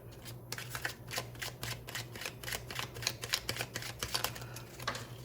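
A deck of tarot cards being shuffled by hand, a quick run of crisp, close riffling flicks repeating steadily for several seconds over a low, steady background hum.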